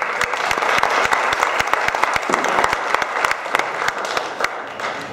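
Steady audience applause fills a town hall meeting, many hands clapping together in a dense, even patter that stays loud throughout with no voices on top.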